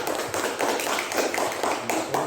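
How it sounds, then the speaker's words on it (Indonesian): Classroom of elementary school pupils clapping together, a brisk rhythmic burst of hand claps close by, fairly loud and even throughout. "Tepuk tangan yang meriah."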